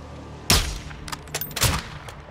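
A sniper rifle in the Call of Duty Modern Warfare II campaign fires twice, about a second apart, each shot a loud sharp crack with a fading echoing tail.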